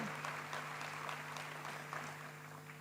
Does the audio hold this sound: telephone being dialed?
no